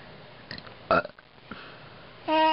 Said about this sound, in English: Big burps.